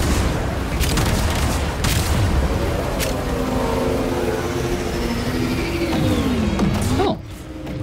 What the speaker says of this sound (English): Launch torpedoes.